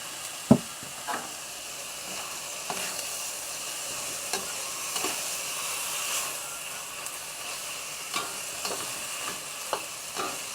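Pork and yams stir-fried with oyster sauce crackle and sizzle steadily in a wok, with intermittent scraping and clinking strokes of the spatula, including a sharp knock near the start.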